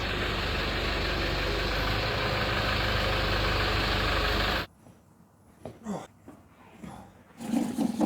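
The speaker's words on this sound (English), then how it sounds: "One Hilux leaves, another one enters." A Toyota Hilux truck engine runs loud and steady at close range, then cuts off abruptly as the vehicle drives out, leaving quieter shop noises with a few knocks and scrapes.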